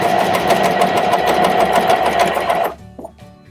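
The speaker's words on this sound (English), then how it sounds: "Okay, so let's start sewing." Coverstitch machine running fast through fabric, a steady dense whir of stitching for about two and a half seconds before stopping abruptly, leaving a few faint clicks and handling sounds.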